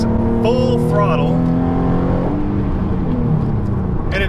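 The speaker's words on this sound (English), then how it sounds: "on the exit I can step on the gas, full throttle" A Nissan 370Z fitted with a Tomei 1.5-way clutch-type limited-slip differential goes to full throttle on a turn exit, its engine droning steadily and rising in pitch throughout, loud and close, with someone talking over it.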